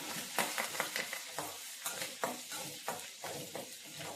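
Coriander sautés in a pan with a soft sizzle under quick, rhythmic scraping strokes of a spatula.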